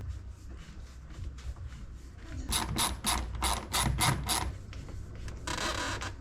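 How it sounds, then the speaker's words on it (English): A screw gun with a short driver sets screws into a wooden track bedded in sealant on a wooden boat's cabin side, making bursts of rapid ratcheting clicks up close over low background rumble. "Happily I found a short driver from my screw gun so I can get in here where it's a little tighter."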